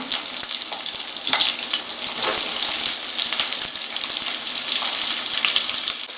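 Onion sizzles in hot oil in a pan for soya chunks biryani, a steady loud frying hiss with crackles running throughout, no voices.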